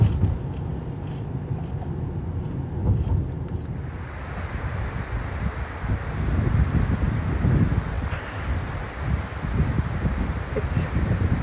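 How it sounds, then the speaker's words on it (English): Breezy evening wind just past sunset at Pictured Rocks National Lakeshore, a steady low rushing and buffeting across the microphone that grows fuller partway through, continuous and close. "It's just past sunset and breezy."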